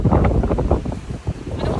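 Wind gusts blowing outdoors at an equestrian eventing ground, buffeting the microphone with loud, uneven low rumbles that rise and fall in quick pulses.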